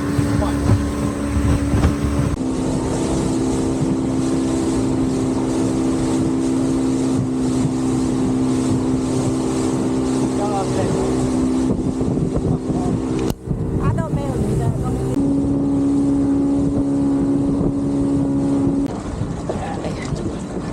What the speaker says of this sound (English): I think it's just maybe 5 to 10 minutes boat ride.